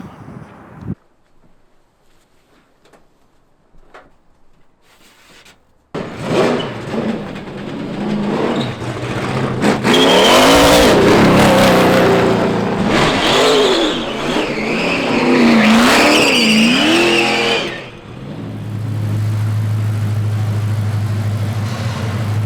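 A NASCAR race car fires up and drives around a dealer lot, its loud, close engine roaring and revving up and down for most of the stretch before settling into a steady idle, after a quiet start.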